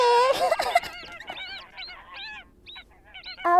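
Honking, goose-like calls from a group of ducks: a loud burst of honks, then a run of shorter, thinner repeated calls, ending with another loud honk, all fairly close.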